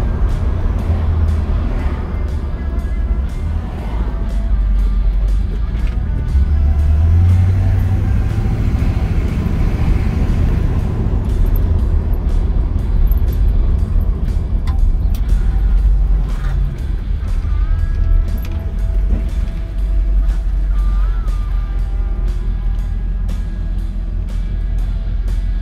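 A 1968 Chevrolet Impala SS with a 327 V8 and automatic transmission is driven, its engine a steady low rumble with road and wind noise rising and easing as it moves along.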